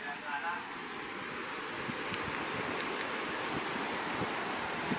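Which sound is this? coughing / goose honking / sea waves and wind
sea waves and wind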